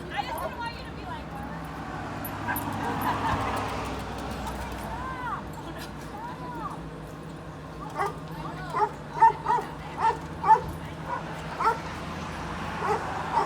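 Two excited little dogs in a car yip, whimper and whine, rising into a run of sharp, evenly spaced barks toward the end, close by with soft background rumble.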